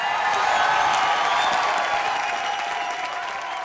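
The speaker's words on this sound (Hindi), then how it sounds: "जोरदार तालियां हो जाए इसकी मौत के लिए" Sustained audience applause from a studio crowd at a televised entertainment show, steady and loud throughout, with dense clapping that eases slightly toward the end.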